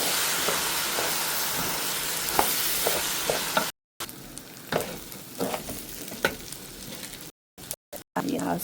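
Rice is toasted and fried in a hot pan, giving a steady sizzling hiss broken by the scrape and clatter of stirring, with short gaps where the sound cuts out.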